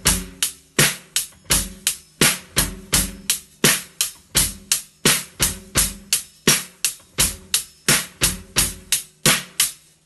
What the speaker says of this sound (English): Now the beat sounds like this.